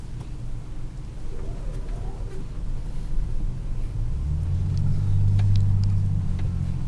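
A 1997 Ford F-150 SuperCab 4x4 with a 4.6 V8 rumbles low and steady while being driven, its engine drone deepening and growing louder as it pulls away near the end.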